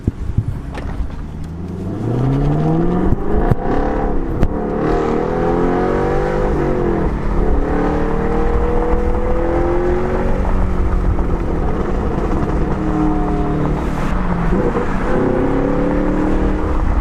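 A Camaro fitted with a carbon fiber Borla S-Type exhaust pulls off and accelerates hard, its deep, loud exhaust climbing through several gear pulls with shifts between them, close by and sustained over most of the stretch, with no talk.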